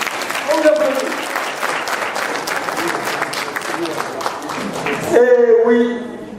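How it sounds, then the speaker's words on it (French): Loud crowd applause at a French-speaking gathering honoring an ambassador's family, dense sustained clapping for about five seconds, then giving way to a voice and a tonal sound near the end. "on vous applaudit"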